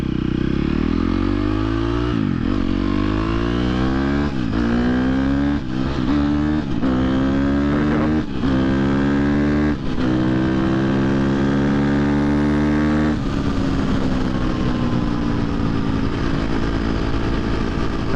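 A 2023 KTM 250 XC-F dirt bike on the street with a quick shifter revs hard and close, climbing in pitch through repeated short upshifts with brief dips between gears, then settling into a steadier drone.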